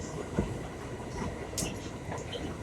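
A New York subway A train rides along the tracks, a continuous rumble with rhythmic clicks and occasional metallic squeals, heard from inside the car at moderate loudness.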